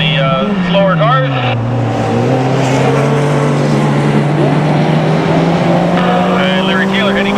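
Race cars lapping the circuit at Mission Raceway during a closed-wheel race, a steady loud engine drone with a sustained pitch throughout and faint commentary voices over it.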